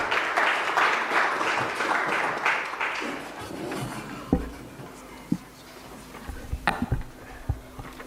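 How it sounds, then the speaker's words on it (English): Crowd applause at a seminar fills the opening seconds, then thins out into scattered individual claps and a few sharp taps near the end. "Let's give him a round of applause."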